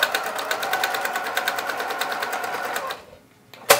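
A sewing machine runs steadily, stitching a seam on a fabric tote at 2.5 stitch length, with a rapid even needle rhythm for about three seconds before it stops, then a brief click.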